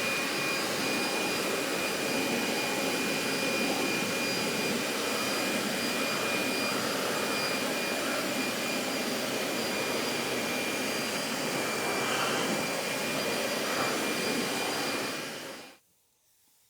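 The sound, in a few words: forced air blower drying automotive plastic trim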